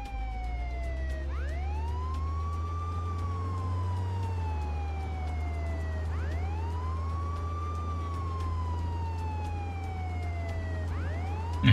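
Police sirens in the video game Contraband Police: a steady wail that sweeps down and rises again in repeated cycles over a low vehicle engine hum, with no talk.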